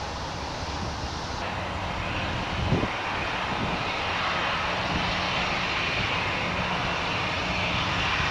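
A fixed-wing airplane engine drones loud and steady at Gran Canaria airport in 2010, a broad continuous roar filling the whole stretch without any talk.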